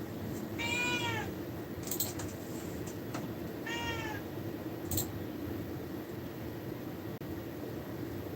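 A cat meows twice in clear, separate calls over a steady background hiss, with a few faint clicks in between.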